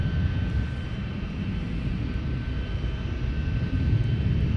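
Jet airliner powered by Pratt & Whitney PW2000 engines taking off across the south parallel runway at Minneapolis–Saint Paul airport, a loud sustained roar with a steady whine, fairly close and unbroken.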